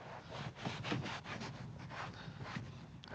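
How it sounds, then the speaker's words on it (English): A microfiber towel rubs and wipes excess cleaner off the door panel of a 20-year-old daily-driver car, making soft, continuous scrubbing swishes in uneven strokes, close and fairly quiet, with no talking. "you take a high quality microfiber towel, wipe off the excess cleaner"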